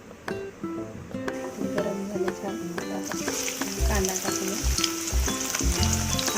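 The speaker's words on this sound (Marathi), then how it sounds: "दोन चमचे तेल घेतले त्यात थोडीशी मोहरी टाकूया थोडेसे जिरे" Mustard seeds and cumin crackle and sizzle in two spoons of hot oil for a crispy wedding-style chivda, with dense popping close by and a voice speaking over the frying.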